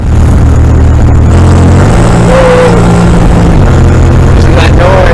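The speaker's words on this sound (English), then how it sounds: "when I push down the gas, I'm worried everything's gonna blow" A classic Fiat 124 Spider's engine drones steadily up close, its pitch stepping up as the car accelerates, with a continuous loud mechanical rumble throughout.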